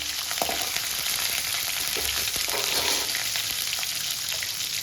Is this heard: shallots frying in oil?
yes